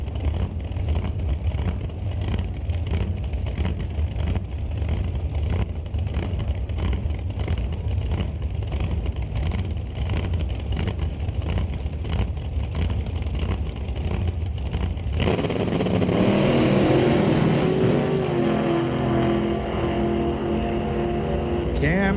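A dragster thunders through a qualifying run at Mission Raceway Park, a sustained loud engine roar that swells and sweeps away near the end, with an announcer talking over it.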